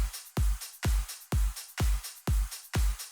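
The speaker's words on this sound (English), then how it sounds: "The small clap, which is meant to be just like subtle, sounds like this." A small, subtle clap snare sample from a dance track, struck seven times in an even rhythm, each hit a short crack with a low thump and a quick fading tail, clear and alone.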